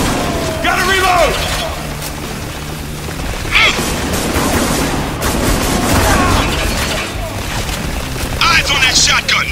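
Gunfire in the Spec Ops: The Line video game erupts as booming shots and bursts amid loud, continuous battle noise, with soldiers shouting over the fight throughout.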